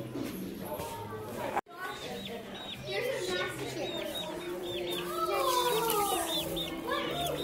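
Chickens on a farm cluck and chirp in quick overlapping calls close by, with people talking over them throughout and a brief pause near the start.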